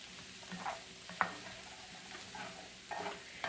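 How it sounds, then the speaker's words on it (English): Food being stirred in a pan in a home kitchen, with soft scraping strokes at intervals over a faint sizzle and a low background hum, fairly quiet throughout. "We're going to stir that around."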